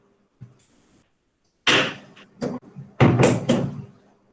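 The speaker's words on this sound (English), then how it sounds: "I have to close the door." An interior door is pushed shut, giving a sudden loud thud followed by further knocking and rattling bumps, close by in an otherwise quiet room.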